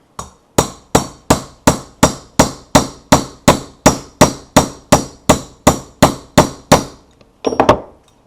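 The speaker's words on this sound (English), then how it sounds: "you'll also hear a change of pitch as I hit it with the hammer." A hammer strikes a metal shaft during a Yamaha TTR90 cylinder head rebuild in a steady, loud series of about eighteen ringing blows, evenly spaced, with changing pitch, followed by a brief rattle.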